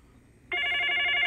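In the video game Nevermind, a telephone starts ringing after a quiet moment, a loud, steady electronic trill that carries on to the end.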